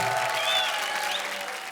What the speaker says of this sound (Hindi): अरे जोरदार तालियां पार्वती के लिए